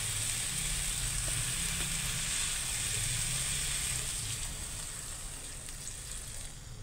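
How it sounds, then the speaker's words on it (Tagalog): Shrimp and taro simmer in a pan as broth goes in, giving a steady close sizzle and bubbling hiss that eases slightly toward the end, with no one talking. "At lagyan din natin ng sabaw."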